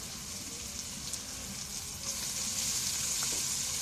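Fish hitting a pan of hot frying spice paste gives a loud, steady sizzle that swells a little partway through, with faint stirring and no talking.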